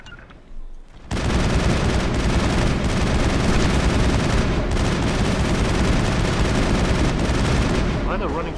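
Sustained gunfire against Rachni in the video game Mass Effect: after a brief quiet start, a dense, loud wall of rapid shots and blasts runs continuously to the end.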